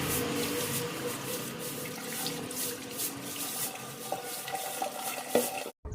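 Water from soaking aloe vera leaves, turned yellow after the sap drained out, being poured away into a sink, a steady close splashing and running stream that continues for nearly six seconds before stopping abruptly.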